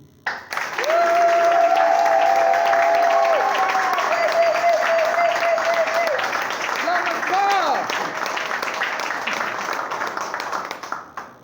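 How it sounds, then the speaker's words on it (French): A crowd at a workers' gathering bursts into loud, sustained applause for the CTU, with cheering and whooping voices over the clapping before it gradually thins out. "Je vous demande d'acclamer le CTU."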